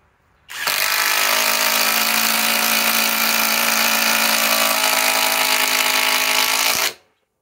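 SKIL Power Core 20 cordless drill spinning up at speed three, a loud steady high-pitched whine and buzz held for about six seconds before cutting off, with no talking.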